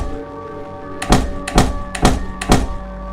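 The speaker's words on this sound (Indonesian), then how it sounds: "Lalu ayah menggedor pintu dengan sangat keras." Four heavy, evenly spaced thuds of a fist pounding hard on a house door in a horror cartoon, loud and close with no talking.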